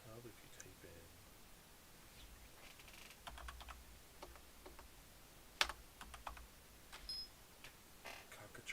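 Keys clack on a computer keyboard in short, quiet bursts with pauses between them and one sharper tap midway, close by, alongside a speaking voice.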